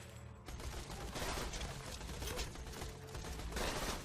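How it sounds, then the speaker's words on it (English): Borderlands 2 gunfire: a dense, sustained barrage of rapid shots that swells after a brief quieter opening and keeps going without a break, fairly loud and busy. "And the bullets do go kind of everywhere"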